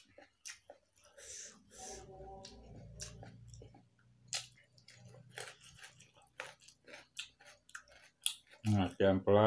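Close, wet chewing of seasoned Indonesian chicken intestines with young jengkol beans, mixed vegetable urap and fried sambal, broken into soft squishy bursts between stretches of talk, with louder chomping near the end.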